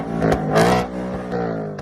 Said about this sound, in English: The Dark Horse with its monstrous V8 soundtrack